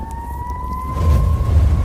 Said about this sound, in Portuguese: o som de sirenes crescia mais alto e mais próximo